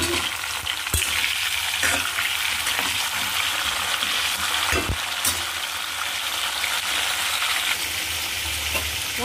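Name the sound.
pointed gourd (potol) frying in oil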